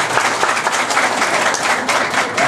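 A crowd at a public event in Gonaïves gives a dense round of applause, with many hands clapping together for a few seconds.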